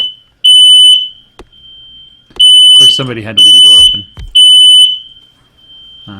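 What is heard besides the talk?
smoke alarm beeping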